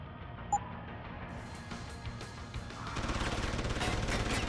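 Gunfire in the video game Deus Ex: Human Revolution, sparse bangs at first then building into a rapid sustained burst in the final seconds, fairly loud with a low background hum and no talking.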